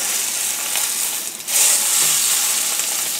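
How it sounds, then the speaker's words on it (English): Bone-in ribeye steak searing in a hot pan: loud continuous close hiss and sizzle that swells sharply midway as the meat is pressed to the pan, no talk. "We'll take it and we will sear the end."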